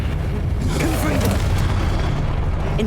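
A Confringo blasting spell from the video game Hogwarts Legacy erupts as a loud, sustained booming explosion lasting several seconds, with dense rumbling low end and crackling bursts over game sound.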